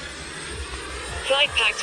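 A Horizon Hobby F-16 RC jet flies a knife-edge pass with a steady whooshing ducted-fan roar that grows louder toward the end, with someone talking over it.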